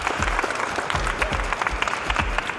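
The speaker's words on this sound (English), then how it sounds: "Clap it up, clap it up, clap it up" Players and staff at a basketball training session clap together, a loud, close burst of many hands with rhythmic low thuds that continues steadily without any talking.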